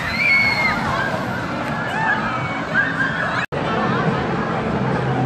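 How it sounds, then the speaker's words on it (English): Water splashes from an amusement park ride at Dorney Park in Allentown, Pennsylvania, with a bright rush of spray and sloshing under a steady outdoor crowd hubbub and chatter. "Oh, splash."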